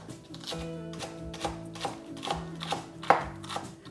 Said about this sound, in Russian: Пару перьев зеленого лука я нарезаю мелко.